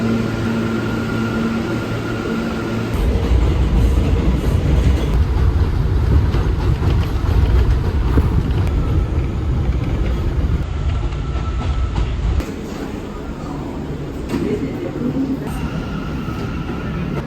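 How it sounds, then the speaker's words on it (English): A New York City J subway train runs steadily with loud continuous rumble and wheel noise, a few faint high tones over the roar, easing slightly toward the end. "Very fortunate that the J train was running in my direction on the way home."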